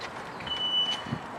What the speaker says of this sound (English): There's your smoke alarm.